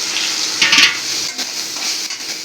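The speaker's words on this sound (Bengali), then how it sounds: "যে সয়াবিনগুলোকে যে ভালোভাবে সিদ্ধ করে নিয়েছি এগুলো ভালোভাবে ভেজে নেব" Boiled soybean chunks fry in oil in a wok with a steady broadband sizzle, a spatula stirring and scraping through it, one louder burst of stirring early on, no talk.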